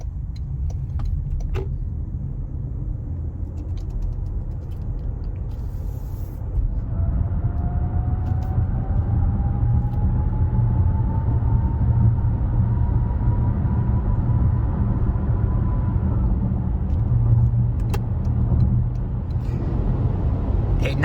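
Toyota bZ4X electric car accelerating gently on a highway toward 80 mph, a steady broadband road and wind rumble with a faint rising motor whine drifting up through the middle, no voices.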